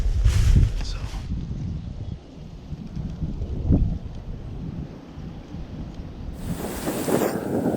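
Southwest wind buffeting a microphone outdoors near a cornfield, with gusty low rumbles and roaring bursts that rise loudly at the start and again near the end, a person's voice faintly present.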